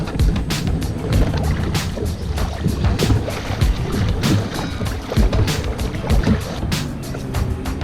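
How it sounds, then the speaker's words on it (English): Rhythmic paddle strokes and splashing of a kayak moving across a lake, with wind buffeting the microphone. "Got the kayak, let's hit the water."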